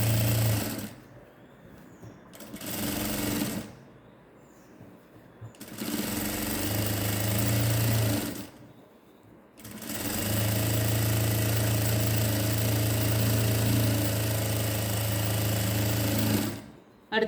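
A sewing machine stitches elastic onto ladies' pants in a few sustained bursts, a loud, close, buzzing hum with brief stops in between, the last run the longest.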